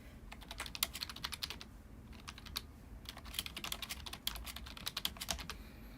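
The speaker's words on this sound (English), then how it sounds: "You can probably hear me typing." Steady, close-up typing on a computer keyboard, rapid key clicks in bursts with brief pauses, fairly quiet and with no voices.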